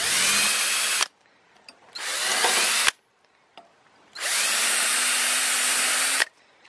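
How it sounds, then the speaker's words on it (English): A power drill pre-drills pine boards for a pig pen gate held with a clamp, running in three loud, steady bursts of whirring with short quiet gaps between them. "Just gotta pre-drill."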